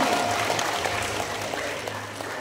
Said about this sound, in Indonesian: Kita beri tepuk tangan yang meriah oleh kita semua.